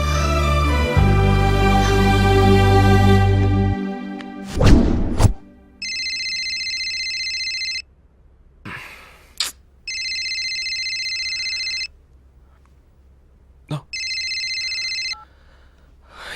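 A telephone rings in three repeated electronic bursts, each about two seconds long with short silences between, following a loud musical sting and a sudden sharp gasp-like hit.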